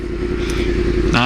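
A 2015 Yamaha R1 sport bike pulls a wheelie, its engine holding a loud, steady drone close by before it revs up sharply in a rising whine near the end.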